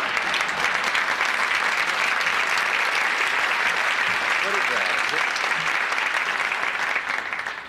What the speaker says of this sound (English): They're applauding for glassy eyes?